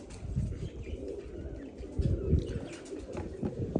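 Pigeons kept for flying coo nearby in soft, low, repeated throaty calls that overlap irregularly, with faint rustling in between and no speech.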